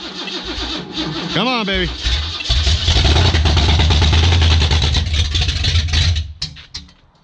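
A car engine cranks, catches and starts on a ranch, then settles into a loud, rough idle with a deep rumble that fades at the end, while someone talks excitedly over it.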